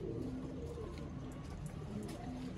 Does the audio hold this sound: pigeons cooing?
yes